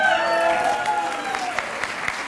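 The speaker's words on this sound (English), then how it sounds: "What a cheer reception she brought with us tonight." An audience applauds and cheers for the district Outstanding Adult Volunteer of the Year at an Atwater Elementary School award event, a steady wash of clapping and crowd noise with faint voices mixed in.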